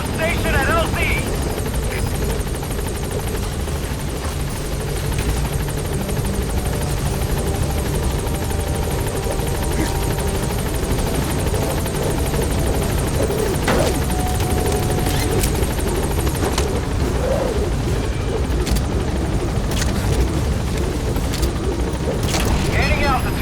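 Helicopter arriving at a landing zone in Metal Gear Solid 5, a loud continuous rotor thrum and engine roar held steady close by, with radio voices talking over it.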